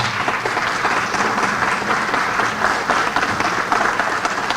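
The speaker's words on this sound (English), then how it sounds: "Please stand up and give a round of applause for Eric Nadel." An audience at a Dallas suicide prevention and awareness day event applauds in dense, sustained clapping that stays even and fairly loud throughout, with no one speaking over it.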